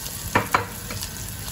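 Ginger sautés in a pan under a steady low sizzle, with two brief stirring scrapes near the start, and no talk.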